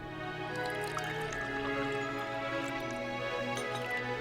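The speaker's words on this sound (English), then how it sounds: "You can pour a glass of wine fairly well at least." Wine poured into a glass in the video game Last Word: faint, drippy liquid splashing and gurgling over a soft background music bed, with no talking.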